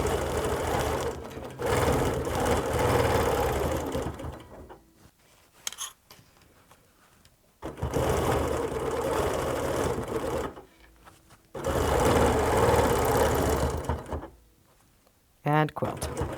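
A sewing machine quilting a clamshell pattern of half circles runs in three long, steady, loud whirring stitching bursts with short pauses between them.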